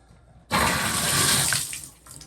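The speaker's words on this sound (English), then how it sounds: "All right, so we just turned the water on." Bath faucet water running after the house supply is turned back on, a Moen 1225 single-knob valve: a loud hissing gush bursts in suddenly after half a second, holds steady, then eases slightly near the end.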